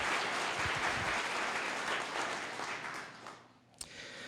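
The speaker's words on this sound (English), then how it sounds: "a big applause for all of them" Room audience at a community distribution event applauding event staff, a mid-distance wash of clapping that fades out toward the end, followed by a single sharp knock.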